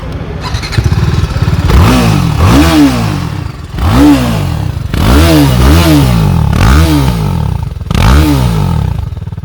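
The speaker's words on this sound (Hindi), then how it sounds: "आपको इसके एग्जॉस्ट को सुन के लगेगा कि इस बाइक का पावर भी इंक्रीज़ हुआ है" A 2021 TVS Apache RR310 motorcycle on a race track, its exhaust roaring loud and close through repeated rising revs and upshifts, each surge climbing then dropping in a steady rhythm of gear changes.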